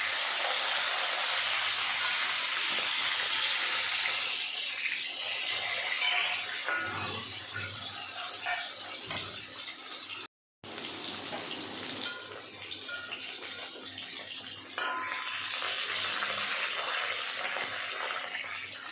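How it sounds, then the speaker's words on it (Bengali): Pieces of fish fry in hot mustard oil in a wok and are turned from side to side. A continuous sizzling hiss varies in intensity, with a short break midway before the frying noise resumes. "এপাশ ওই পাশ করে মাছ ভালো করে ভেজে নেব।"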